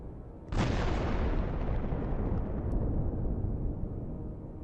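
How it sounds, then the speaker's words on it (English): A sudden massive explosion from a HIMARS strike on a Russian military convoy, with charges detonating, erupts into a long, thundering roar that rumbles on for several seconds, loud and close, slowly fading. "This leads to a massive explosion."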